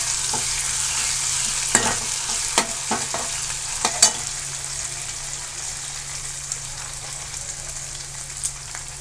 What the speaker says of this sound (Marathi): व्यवस्थित तेलामध्ये परतून घेणार आहोत.